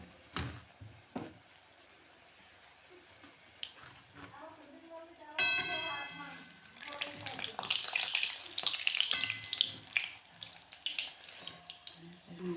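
Sugar paratha frying in oil until golden red: a few quiet clicks and taps, then a loud, crackling sizzle bursts in partway through and continues to the end.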